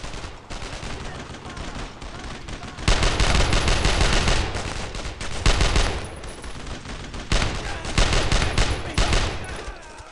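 Sustained squad suppressing fire in the Brothers In Arms: Road to Hill 30 video game, with dense overlapping rifle and machine-gun bursts that swell louder in waves and run continuously without a break.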